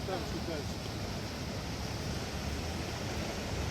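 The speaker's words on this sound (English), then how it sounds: "There's a huge wave" Ocean surf rolls in at Broken Beach on Nusa Penida, heard as a constant, fairly soft wash of waves with some wind noise and no distinct breaks.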